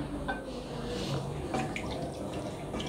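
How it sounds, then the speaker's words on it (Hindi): Water pours into a cooking pot for chicken nihari with a steady splashing, trickling sound and a few light clinks, moderately close. "अब इसमें हमने पानी शामिल करना है।"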